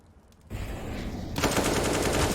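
Counter-Strike gunfire in a pro esports match, a rapid automatic burst that starts after a quiet moment and then swells into denser, louder continuous shooting, close and harsh.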